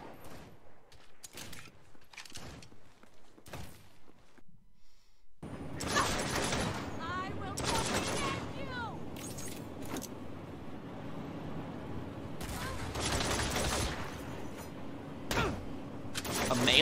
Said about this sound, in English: I'll use the sniper rifle.